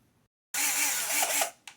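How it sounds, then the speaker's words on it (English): A power drill bores into the lid of an El Toro Loco truck, a single continuous whirring burst of roughly a second, close and fairly loud, then cutting off with a brief click afterward. "Alright, so I'm going to drill right now in these two places in the front"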